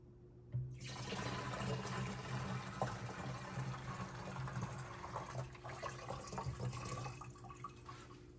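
A quart of water pours steadily into a container of mulch glue mixture outdoors, a continuous splashing gush that runs for several seconds before tapering off.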